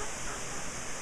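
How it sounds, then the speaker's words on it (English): A waterfall in Puerto Rico on a lightly rainy day gives a steady, even rushing roar of falling water, a constant broadband wash with no breaks. "Waterfall."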